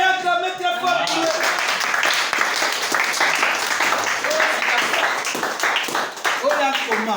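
Church congregation applauding, dense sustained clapping from a crowd filling the room, with voices and a speaker talking over it at the start and end.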